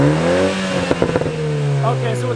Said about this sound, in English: with the valves, you get the burble